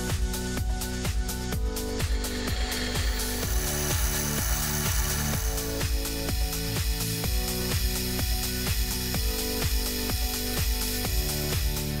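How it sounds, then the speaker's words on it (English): Milling machine drilling the hole for the pendulum rod in a clock's pendulum bob, loud continuous machine noise overlaid with a regular beat of sharp repeated pulses. "then it's over to the mill to put in the hole for the pendulum rod"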